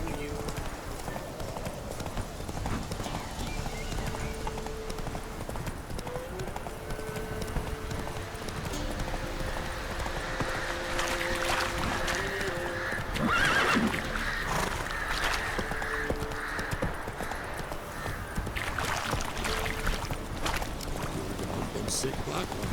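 A horse gallops in a video game, with steady rapid hoofbeats, a faint whinny and a person talking over the sound.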